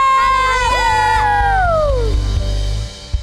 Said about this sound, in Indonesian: sorakan haleluya